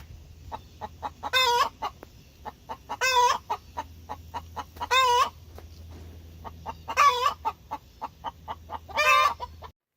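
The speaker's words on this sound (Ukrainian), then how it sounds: "давайте послухаємо, як курочка кличе своїх курчат" A hen calling her chicks clucks in a steady run of short, rhythmic notes, broken every couple of seconds by a louder drawn-out call, close and clear.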